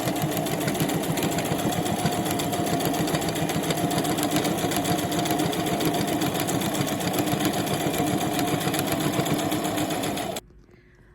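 Steady, continuous whir of a sewing machine stitching along the edge of a square skirt's fabric, loud and unbroken for about ten seconds before stopping abruptly near the end.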